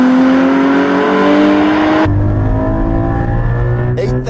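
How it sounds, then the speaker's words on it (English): Mechanical engine noise from a Porsche Cayman GT4 fills the cabin, rising under hard acceleration and then dropping sharply at a gear change before climbing again, loud and close. "it's really the mechanical noise that goes into the cabin"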